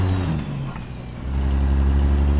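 A CAT C15 truck engine in a simulator game pulls an oversized load, heard as a loud, close, low diesel drone that dips briefly and then swells again as the engine pulls harder.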